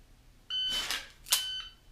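Electronic shot timer beep during shooting practice, two short bright tones about a second apart, fairly loud and clean against a quiet background.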